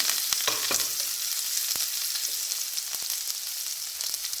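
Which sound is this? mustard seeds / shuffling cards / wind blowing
mustard seeds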